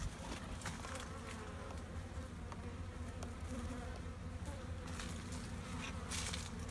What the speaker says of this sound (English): There is bees all around it, a bunch of them.